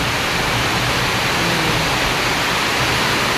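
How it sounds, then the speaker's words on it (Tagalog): Very heavy rain pours down by the sea in a loud, steady broadband hiss that never lets up, with no voices over it. "Hindi na makita yung dagat sa sobrang lakas ng ulan."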